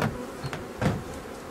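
Honey bees hum and buzz around an opened hive during a spring inspection as frames are handled, a thin steady drone with faint knocks of frames, close by and without talk.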